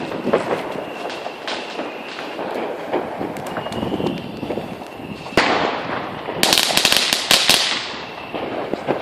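Sharp snapping pops crackle irregularly over a noisy outdoor background on New Year's Eve, snap pop firecrackers bursting in quick clusters.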